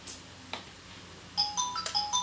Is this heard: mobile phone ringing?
yes